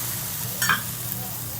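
Crushed peanuts and garlic frying for tondekai palya, a steady sizzle with a brief scrape of stirring midway, close and clear.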